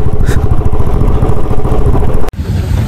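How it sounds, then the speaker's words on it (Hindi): A motorcycle ridden around the Kunzum Mata temple at Kunzum Pass in Spiti, its engine a loud, steady mid-pitched rumble with some clatter, cutting off abruptly near the end. "तो बाइक लेके ही चलते हैं और सामने से एक राउंड लगा के आते हैं"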